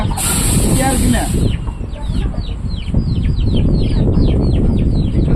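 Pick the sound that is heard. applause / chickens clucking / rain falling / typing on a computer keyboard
chickens clucking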